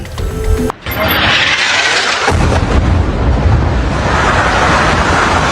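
An Israeli airstrike hits buildings in Beirut's southern suburbs: a sudden, massive blast erupts after a brief pause, followed by a long, roaring rumble that rolls on loudly like debris and thunder.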